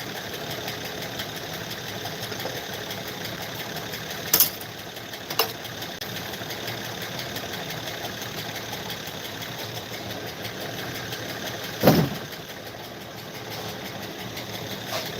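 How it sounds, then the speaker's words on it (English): A car engine idles steadily at close range with a persistent light mechanical tapping, interrupted by a few sharp clanks from nearby tools; no one speaks. "Engine have a tapping"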